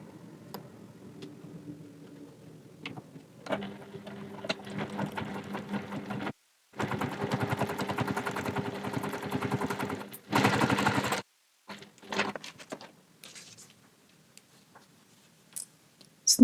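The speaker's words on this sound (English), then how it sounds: "Let's go to the sewing machine." A sewing machine runs in rapid stitching bursts as it top-stitches fabric, with several start-stop runs, short pauses between them and a few quieter clicks near the end; no talking.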